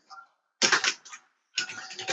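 Computer keyboard keys clatter in two quick bursts of typing a name into a signup form, crisp and close, separated by a short pause with a faint tap at the start.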